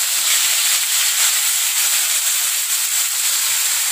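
Ground spice paste fries in a pan for a cassava leaf dish, giving a loud, dense, continuous sizzling hiss that holds steady without a break.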